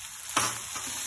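Boiled vermicelli (semiya) tossed with vegetables in a hot pan for upma, a soft continuous sizzle with one sharp scrape of a spoon partway through, close and brief.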